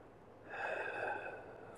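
A single slow breath, audibly drawn through the nose during a gentle hatha yoga side stretch, swells softly and fades, close and quiet with no talking.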